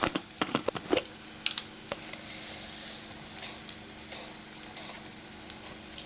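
Raw chickpeas and mustard seeds drop into hot oil with a cluster of sharp pops and crackles, then settle into a steady hiss of frying that runs on quietly with occasional small spits.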